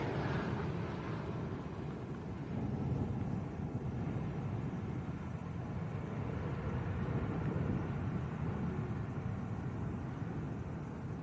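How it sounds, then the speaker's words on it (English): A British Airways A321 airliner from Gatwick at Lanzarote Arrecife airport makes a low, steady engine rumble in the distance. Wind buffets the microphone and there is no speech. "British Airways A321 from Gatwick."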